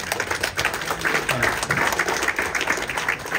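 Audience applause at the awards ceremony of a breakfast and brunch competition final, steady dense clapping from a sizeable crowd filling the whole stretch at moderate level.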